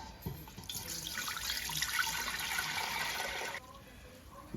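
Apple juice and water pour into a cooking pot for caramel apple pie filling, a steady rushing, splashing stream lasting about three seconds before cutting off, close and moderately loud with faint background noise.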